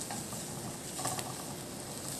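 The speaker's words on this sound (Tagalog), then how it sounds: "Tapos ilagay natin ang ating garlic. Isauteed lang natin para mabango ang ating chicken." Garlic sautéing in a hot pan gives a steady, close sizzling hiss with faint stirring scrapes. It runs without a break and no one speaks.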